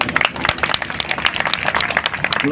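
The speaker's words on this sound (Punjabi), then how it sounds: "ਬਹੁਤ ਸੋਹਣਾ ਤਾੜੀ ਮਾਰ ਦਿਓ ਯਾਰ ਇੱਕ ਵਾਰ" A crowd applauds after a devotional song, steady dense clapping from many hands at close range, sustained throughout with little talk.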